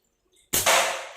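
A slingshot shot striking a target sprayed with paint: one sharp, loud crack that then spreads into a bright rattling clang, fading out over about half a second.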